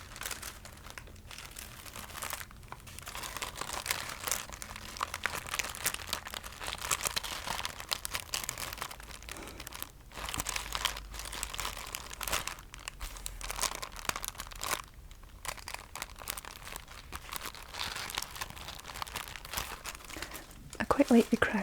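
Crackly material crinkled and handled up close for ASMR, a dense run of soft crackles and rustles with brief pauses between bursts, quiet and intimate.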